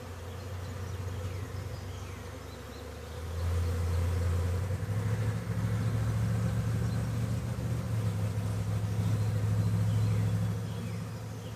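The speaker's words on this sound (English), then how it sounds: "Ton of fanners with their Nasonoff glands going all the way up and around the corner" A honeybee swarm being installed into a hive, many fanning bees buzzing densely at the entrance, a constant close hum that swells louder partway through, with no one talking.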